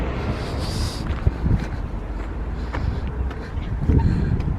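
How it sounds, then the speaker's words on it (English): Steady low rumbling wind buffets the microphone throughout, with gusty swells and a few thumps, no other clear sounds standing out. "It's really windy, so sorry if it's windy."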